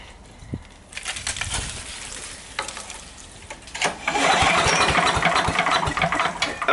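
Sears Craftsman 9HP wood chipper/spreader small engine sputtering and catching with the throttle turned up, starting faint and uneven, then running louder and rougher near by with rattling mechanical clatter.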